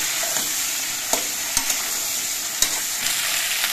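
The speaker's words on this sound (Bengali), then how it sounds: "এবার সবজিগুলো নিয়ে বেশ ভালো করে তেলের সঙ্গে মিশিয়ে নিতে হবে আর সবজিগুলো দিয়ে কিছুক্ষণ ভেজে নিতে হবে।" Vegetables frying in oil while being stirred to coat them, producing a constant bright sizzle with occasional sharp utensil scrapes and taps against the pan, all close and without talk.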